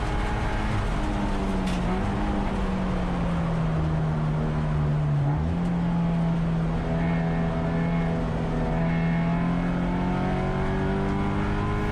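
Race car engine at full throttle on an uphill stretch at Calabogie Motorsports Park, a loud steady roar whose pitch climbs and holds as it pulls hard, close and continuous with no talking.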